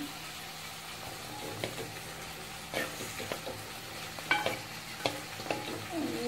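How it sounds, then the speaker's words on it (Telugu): A thick paste of ground coconut and green chillies fries in a clay pot, giving a low, steady sizzle broken by a few sharp scrapes and clinks of stirring. "ఇది లోపల ఫ్రై అవుతూ ఉంటాయి."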